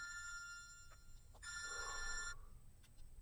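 An electronic phone ring trills in two bursts with a short gap between them, fairly clear against a low background hum.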